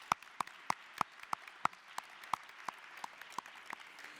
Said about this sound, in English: let's give a big applause to Greta Thunberg